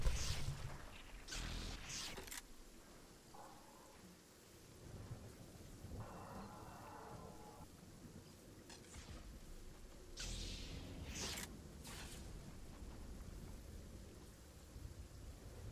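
The storm in Fortnite rumbles with thunder over a bed of steady rain, with several loud sharp crashes and quieter stretches in between, heard alone without talk.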